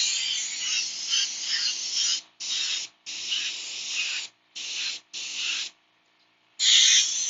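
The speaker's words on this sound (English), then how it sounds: "making fire is one of my favorite my favorite things with the airbrush" Airbrush hissing in steady bursts as it sprays paint onto a vinyl toy, freehand flame designs, with several short pauses between passes and a louder final burst, close and alone.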